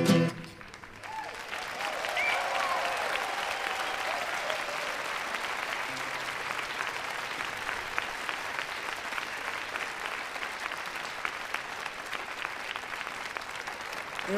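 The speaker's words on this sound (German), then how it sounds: "Ihr habt ja viel zu früh geklatscht" Audience applause at a conference talk after a sung song, steady clapping from a crowd filling the room, loud and sustained with no pause from start to finish.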